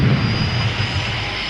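Jet aircraft engine screaming over Muir Island, a loud sustained roar with a thin high whine on top, steady throughout with no voices.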